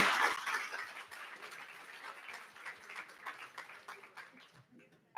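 A conference audience applauds delegates and working groups, the clapping starting strong, then thinning into scattered, softer claps that fade toward the end.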